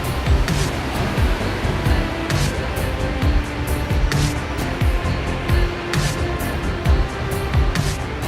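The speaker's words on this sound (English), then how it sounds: "The undulating waves that appear to dance, called the divine dragon's tail, are actually often the interplay between fast currents and small ripples" Fast currents meet small ripples, producing a rushing, churning wash of water with repeated surging pulses and splashes, loud and close, continuous without voices.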